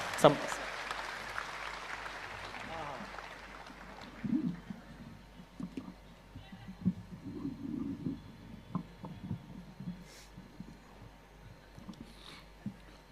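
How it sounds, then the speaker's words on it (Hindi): Faint scattered clapping from an audience, uneven and distant, fading in and out over a quiet room. "जोरदार तालियों से आमंत्रित करें।"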